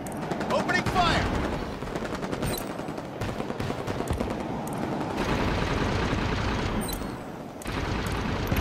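Rapid automatic gunfire in the video game Halo 5 Guardians Warzone, loud continuous bursts of shots with brief breaks, mixed with game voices and explosive rumbles.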